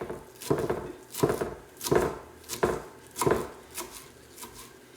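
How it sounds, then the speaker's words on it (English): A knife finely shredding kale on a cutting board, seven evenly spaced firm chopping strokes about one per 0.7 seconds, close and moderately loud, with no talking. "I cut it down the center just like this, and then just kind of finely shred it"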